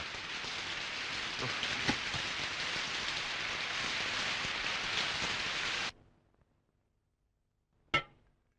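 Steady heavy rain pours loudly for about six seconds, then stops abruptly, leaving near silence broken by one sharp bang.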